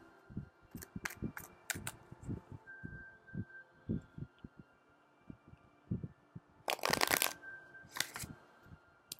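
Tarot cards are shuffled by hand in quick bursts of soft flicking and tapping, fairly quiet and close, with a longer riffle near the end and no talking.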